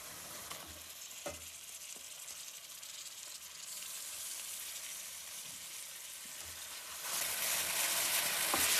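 Natu kodi (country chicken) pieces hitting hot oil with sliced onions and bay leaf, a steady loud sizzle with occasional stirring clinks, swelling louder near the end.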